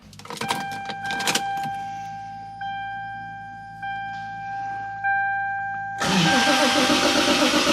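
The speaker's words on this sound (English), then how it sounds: "Ooh, did you guys hear that? That battery was struggling." Toyota Supra being started on a weak, struggling battery, with clicks and a warning chime tone over a low hum, then the engine catching and settling into a loud, rough idle near the end.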